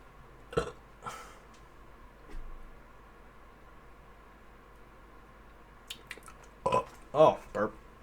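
A few short burps break through a quiet background, one early and a cluster of louder, closer ones near the end, with faint speech and soft room noise between them.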